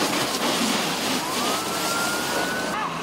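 Fire truck siren wailing faintly in the distance while responding to a fire among closely packed houses in San Roque, Cubao, Quezon City, before 5 a.m., under a broad wash of outdoor noise.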